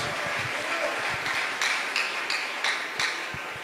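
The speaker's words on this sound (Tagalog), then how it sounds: "Malakas na palakpak para sa ating dakilang Diyos." A church congregation at a JMCIM preaching service claps loudly together, a dense, continuous wash of applause with a few sharper claps standing out.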